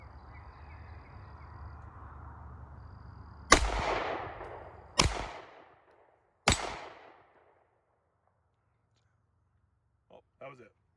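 A G-Force Arms Chronicle 1911 9mm pistol fires three sharp, loud shots spaced about a second and a half apart over a low background hum, each one trailing off in echo, then near silence with faint talk at the end.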